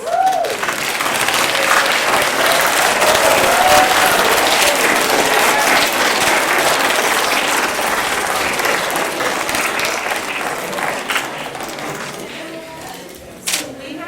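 Sustained audience applause for student capstone presenters at a school presentation day, dense and steady clapping filling the room for most of the span, tapering slightly near the end with a brief voice at the start.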